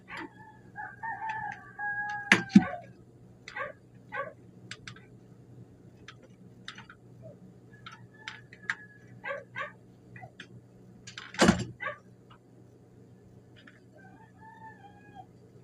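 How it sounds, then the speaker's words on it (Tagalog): Roosters crow at dawn, several separate cock-a-doodle-doos spaced across the recording, some near and loud, others farther off. A steady low hum sits underneath, along with a few sharp knocks and clucks. "maririnig ninyo yung tilahok ng mga manok kasi madaling araw akong nag-video recording"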